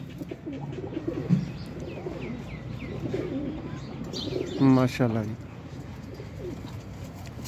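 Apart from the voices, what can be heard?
pigeons cooing, Teddy golden pigeons for sale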